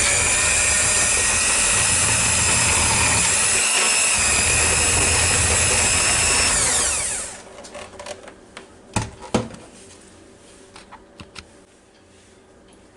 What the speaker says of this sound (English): I'm going to take my handy dandy mixer here with my soft blades on it.